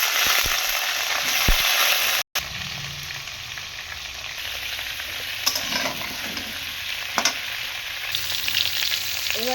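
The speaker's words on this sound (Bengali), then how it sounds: "এবার আমি আলুটা তেলের উপরে দিয়ে দেবো।" Potatoes sizzle in hot mustard oil in a wok, a steady frying hiss with occasional stirring scrapes and clinks, close and moderately loud, briefly cut off by a short gap early on.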